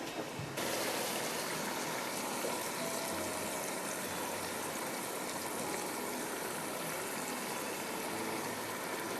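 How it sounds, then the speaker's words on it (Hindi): Water runs steadily as it is poured off soaked rice for vegetable pulao in a kitchen, a continuous trickling rush with no talking. "इसमें से चावल भीगे हुए हैं, इसका पानी मैं निकालती हूँ।"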